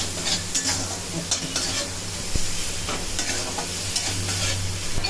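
Fish paste for fish kabiraji frying in a pan. A steady sizzle runs throughout, broken by occasional stirring scrapes and a low hum underneath, with no voices.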